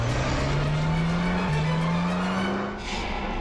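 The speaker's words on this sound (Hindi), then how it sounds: "पीछे यूटर्न लो ना और यहाँ दाई ओर से निकालो गाड़ी, जल्दी" A car engine hums steadily with a rising tone as the vehicle turns around and pulls away, moderately loud and close, with no voices over it.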